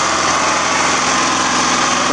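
A cold pull-start small engine runs at a steady, continuous drone, a close and loud mechanical hum with no talk over it.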